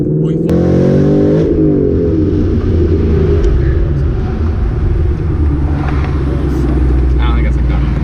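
A supercharged Ford Mustang GT of about 800 rwhp, fitted with ID1050X injectors, revs loudly up close. Its pitch climbs, then drops abruptly at a fuel cut, followed by a deep, steady rumble while people talk over it.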